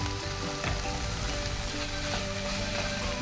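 Spices with salt, red chilli powder and turmeric sizzle and fry steadily in a pan at close range, a continuous crackling hiss with no talking.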